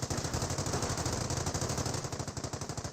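Rapid, steady bursts of .30 cal machine gun fire from a Company of Heroes battle, sustained rattling at close range with no talk over it.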